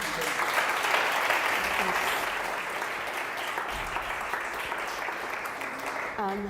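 An audience claps steadily through a New European Bauhaus Festival side-event, a dense, even wash of many hands held at one level from start to finish.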